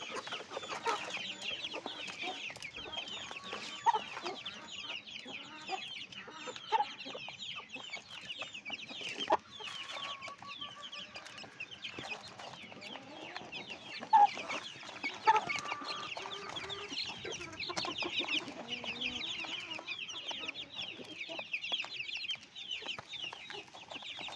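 Hens cluck and chatter continuously at moderate distance, with occasional louder squawks over a busy coop background.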